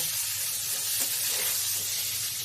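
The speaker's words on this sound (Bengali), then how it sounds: "ঝিঙেটাকে দিয়েও ভালো করে ভেজে নেব" A brief stretch of steady, close hissing sizzle from ridge gourd frying in a pan, with no voices.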